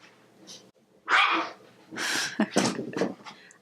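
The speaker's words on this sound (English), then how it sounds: "My dogs are having fun because I just got home." Pet dogs romping at home, giving a quick run of excited barks and yips close by, some loud and some softer with whimpering between them.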